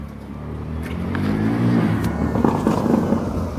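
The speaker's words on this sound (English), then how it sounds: "You can hear his obnoxious car." A car engine growls and revs up nearby, its loud rumble building steadily and holding throughout.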